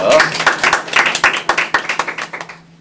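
Audience applause at a student talk show on AI-generated works and copyright: a short run of brisk, fairly loud claps that slowly thin into separate hand strikes and fade out.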